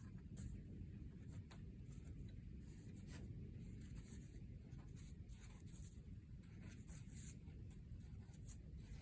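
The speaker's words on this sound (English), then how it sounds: "I'm just going to draw little turquoise circles to sort of go with my theme here." A pen draws small turquoise circles in an art journal, a faint, steady scratching and rubbing over low background hum, close and quiet, with no talk.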